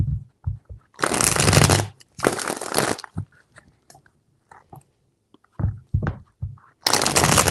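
Tarot cards are riffled and shuffled in several crisp bursts, with quieter taps and handling sounds between them, close up and without talking.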